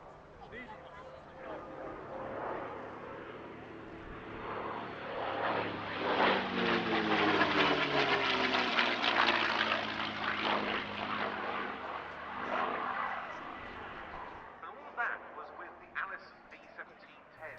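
A CAC CA-18 Mustang propeller fighter passes at an air show, its engine drone rising from a distant hum to a loud close roar with a sweeping pitch shift, then fading away.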